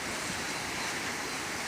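Strong, cold wind sweeps through Batumi, tossing palms and loose objects, heard as a steady, loud broadband rush with no pauses and no voices.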